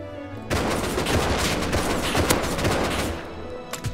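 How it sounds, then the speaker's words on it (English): AK rifle gunfire in the Rust survival game, a dense sustained burst of rapid shots from about half a second in, loud and continuous, easing off briefly near the end. "Watch out, the fucking AK is a laser right now."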